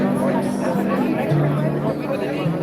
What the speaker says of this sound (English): Good decent crowd building up.